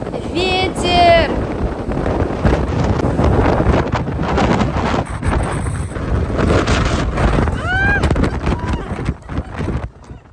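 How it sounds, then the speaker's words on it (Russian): Strong wind in Reykjavik, Iceland, roaring and buffeting the microphone throughout, with brief vocal sounds over the gusts. "Ветер!"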